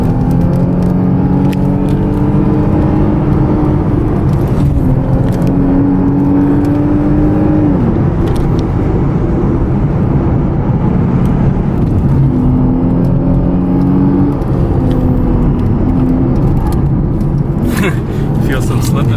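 A 2008 Lexus IS 350 driving hard through California canyon roads, its engine droning loud and steady from inside the cabin with rising and falling revs as it pulls through the bends.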